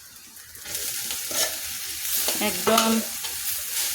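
Fresh helencha greens hit a hot pan already holding chopped garlic and onion, then sizzle and crackle as they are stirred, with scraping utensil strokes and a brief spoken word over the frying.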